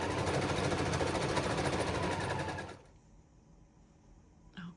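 A sewing machine stitches a fringe layer onto the hem of a circle skirt made from a tablecloth, running in a steady close buzz for under three seconds before stopping, leaving quiet room noise with a faint bump at the end.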